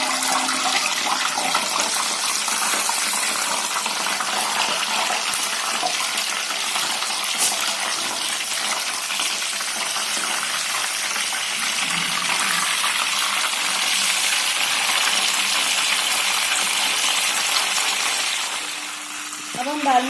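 Black chickpeas fry in hot oil with a loud, continuous sizzle and hiss close by for about twenty seconds, easing off slightly at the end.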